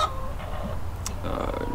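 Chickens cluck and murmur close by in short, low calls, with a brief higher squawk in the middle.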